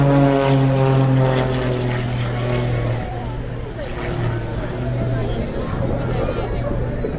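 An aerobatic propeller plane performs at the Eastbourne airshow, its engine droning loud and close with a steady, strong tone that shifts pitch as it maneuvers, continuous throughout under a commentator's voice.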